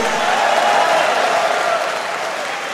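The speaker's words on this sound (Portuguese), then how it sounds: "dê um aplauso e um grito de júbilo a Ele" A church congregation claps and cheers, a dense, loud burst of applause from a large crowd that holds steady and slowly eases toward the end.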